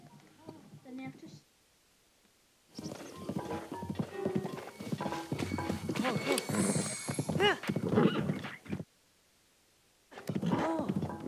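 Hooves of a horse galloping along a road in Zelda: Breath of the Wild, a steady clip-clop rhythm with an occasional whinny, playing under a voice talking over most of the stretch, with short quiet gaps.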